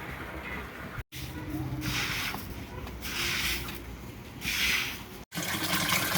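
Water pumps by motor into a rooftop storage tank, a steady rushing splash with swelling surges, heard close and continuous with two brief cut-offs.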